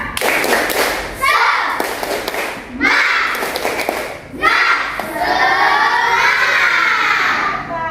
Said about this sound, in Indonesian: kita tepuk semangat dulu ya. Tepuk tangan.